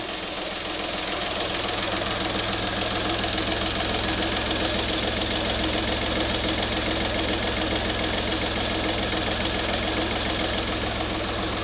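A diesel engine from the VAG group runs steadily and loudly with a rough, knocking diesel clatter, continuous throughout with no talking.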